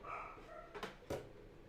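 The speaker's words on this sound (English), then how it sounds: "the dog's barking" A pet dog gives two sharp barks close together, fairly near but not loud, over a quiet indoor room hum.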